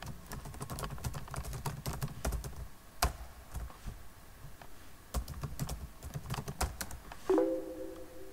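A computer keyboard clatters as a chat message is typed, with irregular quiet keystrokes and a few sharper taps, ending with a brief tonal chime.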